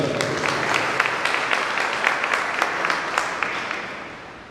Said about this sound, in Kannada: ಅವರಿಗೆ ಮತ್ತು ಅವರ ತಂಡಕ್ಕೆ ಜೋರಾಗಿ ಚಪ್ಪಾಳೆ ಬರಲಿ